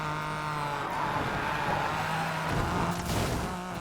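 Honda NSX engine roaring at high speed in the racing game Need for Speed Payback, a steady loud drone with sustained engine tones and a brief tire squeal near the end, no talking.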